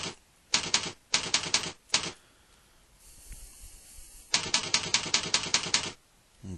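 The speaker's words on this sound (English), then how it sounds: "If I could type." Rapid keystrokes clatter on a computer keyboard while data is entered into property rental management software, coming in several quick close bursts separated by short pauses.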